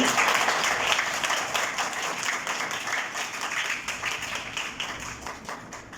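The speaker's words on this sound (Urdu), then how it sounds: "خدا ان کے جلال کے لیے زوردار کلیپنگ کریں" A church congregation claps loudly and continuously in a dense, rapid patter that slowly tapers off toward the end, with no speech over it.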